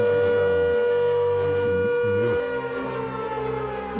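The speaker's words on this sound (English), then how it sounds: "there's a siren going off" A loud civil defense siren wails continuously near an active volcano in New Zealand, a steady droning tone that shifts slightly in pitch partway through.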